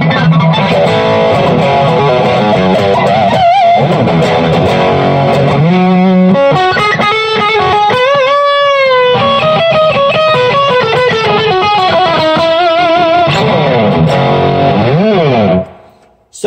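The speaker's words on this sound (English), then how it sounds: "Now this is the overdrive on the ME70 into the front of the amp." Electric guitar played through the overdrive of a Boss ME-70 multi-effects unit into the front of a Hughes & Kettner amp with reverb; a continuous loud, distorted stream of chords and sustained notes, ending abruptly.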